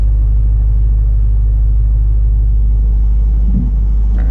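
LS3-swapped Pontiac G8 GT V8 running while driving on the street, a steady deep low rumble throughout with a brief slight rise in engine note near the end.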